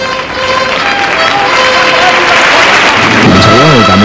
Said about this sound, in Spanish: Y salida donde también se producían muchos aplausos, como podemos escuchar perfectamente.